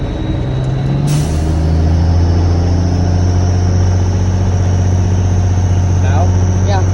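A classic manual semi truck engine drones loud and close at a low, steady pitch, with a sharp hiss and a rise in engine note as it shifts up to second gear.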